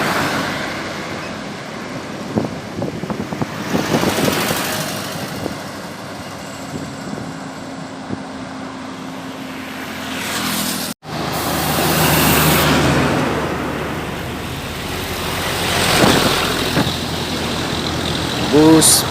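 A Legacy SR1-bodied intercity bus runs along a highway, its engine and road noise droning steadily for about nineteen seconds, swelling as it passes, with a brief cut partway through and voices talking over the engine.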